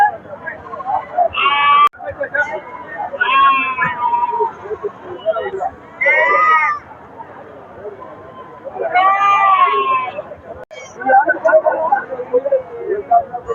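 Goats at the Retteri goat market in Chennai, some brought from Andhra, bleating repeatedly and loudly close by, with short cries in bursts separated by brief quieter gaps.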